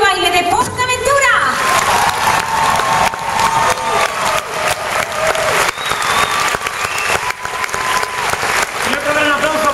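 Audience applause for the PortAventura dance troupe at the park's 20th anniversary celebration show, loud sustained clapping and cheering from a large crowd, with musical tones and a voice running over it.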